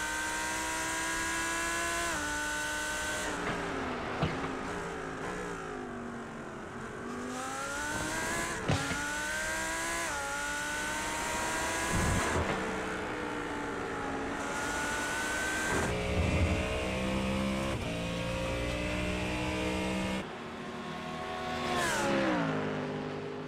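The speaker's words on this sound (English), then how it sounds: "Listen to these GT3 engines roar to life." Loud GT3 race car engines rev and roar continuously, pitch sweeping up and down through gear changes, with several cars passing close by.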